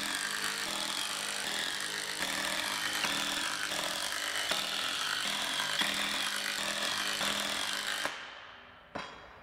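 Power tool driving screws into glued wooden climbing hold parts, a steady close whirring grind for about eight seconds, then it stops abruptly, followed by a brief knock.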